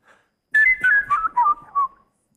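A person whistles a melody in a distinctive, musical style: a quick run of clear, close notes that glide from one pitch to the next, heard alone against silence.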